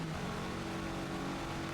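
A Le Mans sportscar engine in the Forza Motorsport racing game drones steadily at high revs, loud and constant throughout this short stretch, with no talking.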